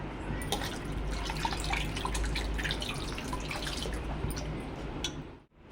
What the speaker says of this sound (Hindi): और इसको धो लेते अच्छे से, 2 बारी धोंगी